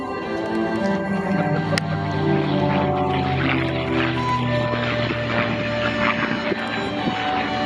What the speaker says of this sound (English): Rolls-Royce Merlin engine from the right. The mighty Mustang.